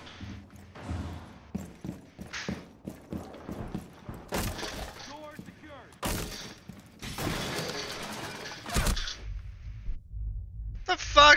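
Gunfire in Rainbow Six Siege, a tactical shooter, with sharp cracks and bursts scattered through the clip, some close and loud, mixed with other game effects and a player talking over it.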